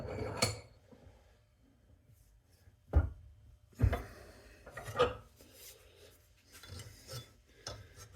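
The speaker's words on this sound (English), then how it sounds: "I'm gonna have to take this whole thing on my surface plate with some sandpaper." A metal part from a Brown & Sharpe bench center is rubbed over sandpaper on a surface plate to take off high spots. Separate scraping strokes come close and fairly loud, with short pauses between them.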